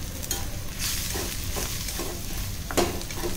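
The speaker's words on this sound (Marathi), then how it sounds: "आणि असा छान फोडणी परतून घेतला ना मसाला" Malvani masala is stir-fried for mutton rassa in a sizzling pan, with repeated spoon scrapes and stirring strokes over a steady frying hiss, close up and without speech.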